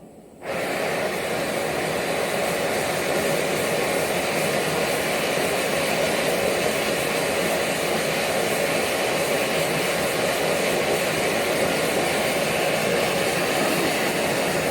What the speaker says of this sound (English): I'll turn it down because it obviously will become more intense. So we're going to feed it liquid gas now.